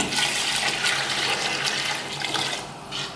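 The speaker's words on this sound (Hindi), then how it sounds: "तो हम इसके अंदर ये 4 गिलास पानी डाल रहे हैं।" Water pours steadily into a cooking pot of sella rice for pulao, a continuous close gushing splash without pauses or voices.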